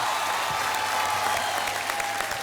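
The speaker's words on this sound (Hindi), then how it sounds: "तालियां!" Steady, dense applause from a studio audience at a Hindi TV game show, loud and continuous throughout without a break.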